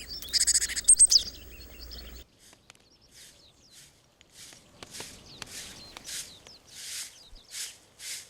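Brown-eared bulbul calling in snowy winter woods beside a mountain hermitage, a few loud chirps near at first, then a string of repeated sharp calls at moderate distance.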